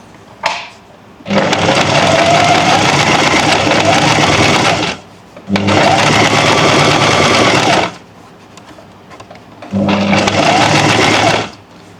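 A sewing machine stitches fabric with a buckram strip along a neckline edge in three long motor-driven bursts of rapid clatter, each lasting a few seconds, separated by brief pauses with small handling clicks.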